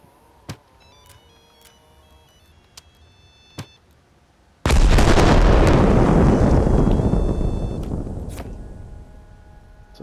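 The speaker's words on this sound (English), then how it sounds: "You hear that cell phone go off, and then the explosion." Explosion in the military sandbox game Arma Reforger, preceded by a few short electronic phone-ring chirps, then a sudden loud, close blast with a long rumbling tail fading over several seconds.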